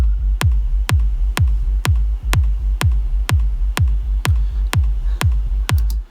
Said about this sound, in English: rolling these together, the kick and the bass sounds like this